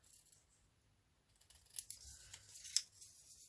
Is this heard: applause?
no